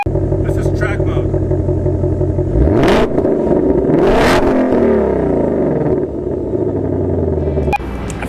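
A Ford GT's 3.5-liter twin-turbo EcoBoost V6 idles with a deep rumble, then revs hard twice with a rising roar before settling back.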